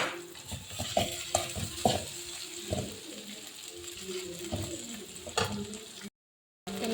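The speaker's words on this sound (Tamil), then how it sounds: "எல்லா பாஸ்தாவையும் போட்டு நல்லா மிக்ஸ் பண்ணிக்கோங்க." A spoon stirs pasta masala with capsicum in a pan, making irregular scraping clinks and soft sizzling close by, with louder knocks at intervals before a brief cut to silence.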